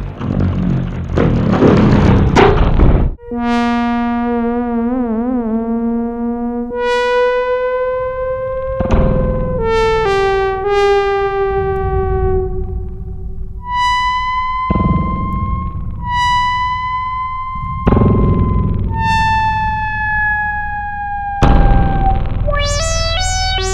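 Sustained Roland SH-101 synthesizer tones with gliding, sweeping pitches, washed in metallic spring reverb, played as a series of long notes with sharp attacks between them.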